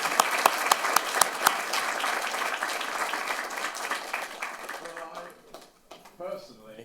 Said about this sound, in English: Personally believe that applause should be held to the end, if deserved.